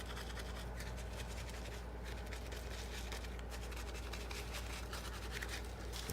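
A brush scrubs a car wheel rim around the lug nuts, a steady close scratchy rubbing that runs continuously under a constant low hum, with no talking.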